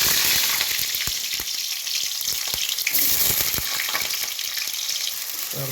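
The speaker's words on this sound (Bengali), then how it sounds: "তেল তাতার পরে আলুগুলো দিয়ে দেবো" Potatoes fry in hot oil for a potato and chicken skin dish, a loud continuous sizzle broken by crackling pops and occasional stirring scrapes, close up with no talking.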